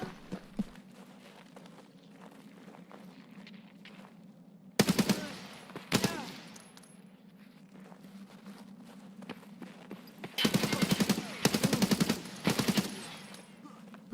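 Gunfire in the video game Escape from Tarkov: a single loud shot, then another burst about a second later, followed by several rapid, sharp volleys close together toward the end, over a low steady background hum.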